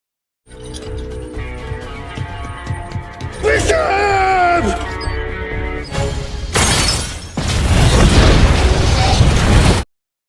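Film audio with a dramatic score and effects, building to a loud, sustained explosion blast with rumbling debris near the end.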